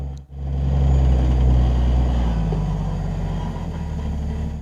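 An off-road vehicle's engine throttles up on the Hell's Revenge slickrock trail at the Escalator obstacle, a loud, deep, sustained rumble that swells after a brief dip and then holds steady, with no talking.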